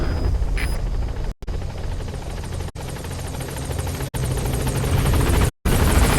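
A support helicopter from Metal Gear Solid V arrives at a landing zone, its rotor thudding in a steady loud rhythmic drone throughout, interrupted by a few brief gaps.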